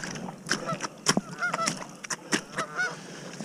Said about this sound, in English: Some geese out there that aren't happy with me.